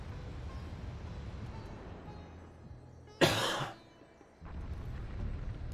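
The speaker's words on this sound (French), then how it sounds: "désolé, je tousse beaucoup." A single loud cough bursts out over quiet background noise in the middle of a Super Mario Galaxy gameplay session, lasting about half a second before low ambient sound returns.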